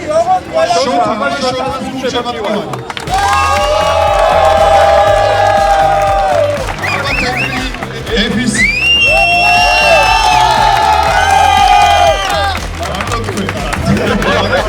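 A crowd at a BMW festival cheers loudly as a car is named BMW of the year, with shouts, whoops and babble swelling under a loud amplified voice, sustained and close.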